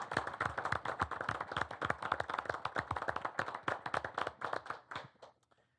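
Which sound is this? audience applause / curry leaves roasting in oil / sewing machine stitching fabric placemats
audience applause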